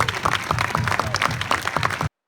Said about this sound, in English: big round of applause for the cast